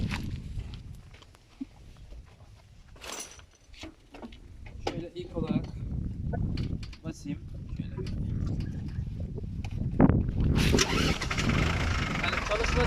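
A New Holland T480 tractor engine is cranked and starts, then settles into a sustained rumbling idle. Scattered knocks and handling noises are heard close by beforehand.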